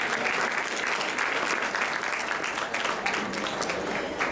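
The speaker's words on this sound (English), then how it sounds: "Please, a round of applause for Mikala from Hoover Middle School." A school audience applauds Mikala from Hoover Middle School at a most inspiring student award ceremony, with full, continuous clapping from many hands throughout.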